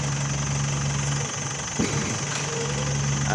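A car's engine runs at a steady idle-like drone during a driving lesson just after a gear change, with a brief bump midway and low vibration throughout.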